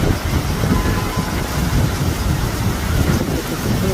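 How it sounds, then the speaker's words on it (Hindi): Heavy rain pours down steadily outdoors at night near a temple and park, a dense hissing wash with low rumbling wind gusts, continuous and loud throughout. "इसको जूम करते हैं ना तो ये बारिश एकदम क्लियर दिखती है, कितनी ज़्यादा बारिश होती है।"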